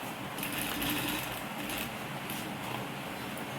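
Sewing machine running steadily as it stitches three fabric pieces together for a diamond-shaped piece, a continuous close mechanical whir without breaks.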